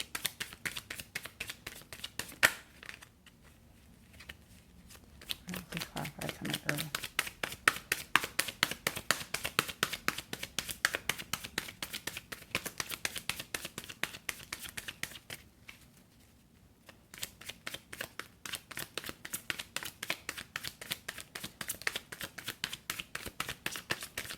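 Rapid, steady riffling of tarot cards being shuffled over and over, with a few short pauses between bursts; close and fairly loud.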